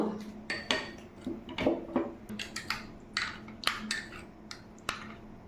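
A spoon stirs about two spoonfuls of agar agar powder into cold coconut water, making irregular close clinks and scrapes against the container, with no talk.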